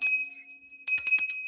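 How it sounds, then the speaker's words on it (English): A small bell rings with a clear, bright sustained tone that fades, then strikes again in a rapid series of ringing hits, close and loud. "the bells,"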